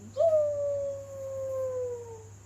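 A wolf gives one long, close howl that swoops up and then slowly sinks over about two seconds, loud and alone against a faint steady hum.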